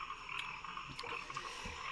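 A big frog croaks close by outdoors in a repeated, raspy rhythm that runs continuously, with no voices.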